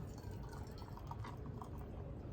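Hot water trickles and drips in a thin, quiet stream from a kettle into a pour-over coffee dripper, steady with soft splashes and no talking.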